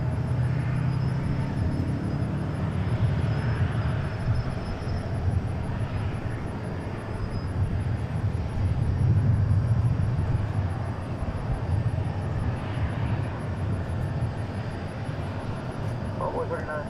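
An airliner at DFW International Airport produces a steady broad engine roar and rumble that holds throughout, loud and continuous, with voices present underneath.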